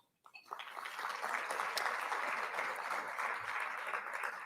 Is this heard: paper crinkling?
no